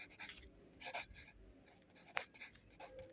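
A pen scratches across paper in short, quiet strokes with brief pauses, as a French sentence about a white rabbit is written out, the scribbling close and faint with no talking.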